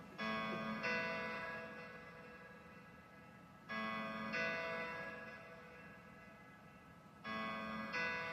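Two sustained piano chords, C4 then G4, recorded in a cold basement studio, struck in a repeating pattern with each chord ringing and slowly decaying before the next, three strikes across the span, no talking.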